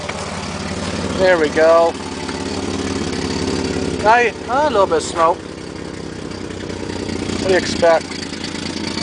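Old 1967 Mercedes engine with over 300,000 miles idling steadily right after a cold start, a continuous low hum throughout, with people talking briefly over it at several points.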